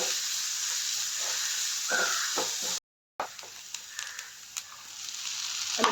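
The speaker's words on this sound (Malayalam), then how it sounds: "ഇനി ഇത് ചെറുതായിട്ടൊന്ന് വഴറ്റി കൊടുക്കണം." Sliced onions sauté in a pan for drumstick thoran, giving a continuous sizzling hiss with a few stirring scrapes. The sound cuts out briefly partway through, then the sizzle resumes alone, close and moderately quiet.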